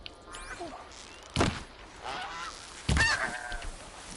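Goose honks in the game Horizon Zero Dawn: a few short, nasal calls scattered over a few seconds, with two sharp thudding hits between them, heard fairly close against a quiet background.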